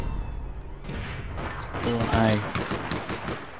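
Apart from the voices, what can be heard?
gunfire in the video game APB Reloaded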